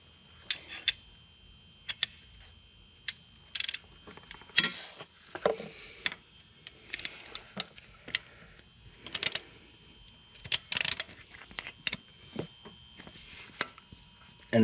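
A ratchet with a long extension removes the starter motor bolts on a 2004 Honda Recon 250 ES ATV. Crisp clicking ratchet bursts and metallic taps recur irregularly and close by throughout, with quiet gaps between strokes.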